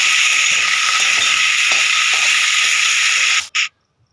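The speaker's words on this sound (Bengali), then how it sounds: "তো সেই জন্য দেখো পেঁয়াজ আর শুকনো লঙ্কা ফোড়ন দিয়ে আমি শাকটাকে ভেজে নেব।" Onion and dried red chilies sizzle in hot oil as a tempering for greens, a loud continuous close frying hiss that cuts off abruptly near the end, followed by a short burst and then near silence.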